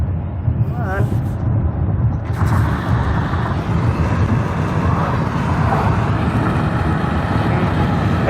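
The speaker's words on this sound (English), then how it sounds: "I'm going to put the window down one more time so you can hear" Wind roaring past a car's lowered side window with wind deflectors fitted while driving, a loud broadband rush that builds once the window opens and stays heavy and steady under faint road noise.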